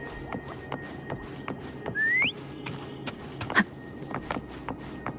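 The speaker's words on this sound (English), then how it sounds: "Try whistling." A single rising whistle in Wuthering Waves sounds briefly amid soft shuffling steps and quiet background noise.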